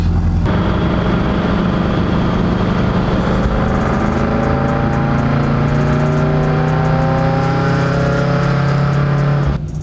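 Boosted Subaru BRZ on a test drive, engine note climbing steadily through the rev range with a smooth rising drone, loud and close from inside the car, no talking.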